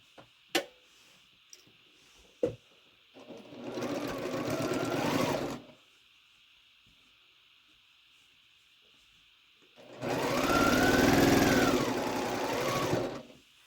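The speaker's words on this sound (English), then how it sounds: "Now all we have to do is sew these rows onto the center section" A sewing machine stitches rows of a quilt block onto the center section, running in two steady whirring bursts of a few seconds each, separated by quiet pauses with a couple of sharp clicks.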